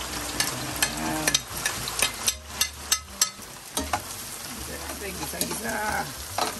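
Onion sautés in a pan with repeated scraping strokes of a spatula, a steady close sizzle punctuated by rhythmic stirring knocks, with a voice briefly heard now and then.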